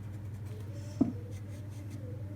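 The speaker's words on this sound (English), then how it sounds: "Now a bit of shading with charcoal pencil." A charcoal pencil shades on paper with a soft, continuous scratching close by. A low steady hum runs underneath, and one small tap stands out.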